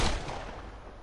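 Gunfire in the survival horror game The Evil Within, a single loud blast with a sharp onset and a short decaying tail, heard alone.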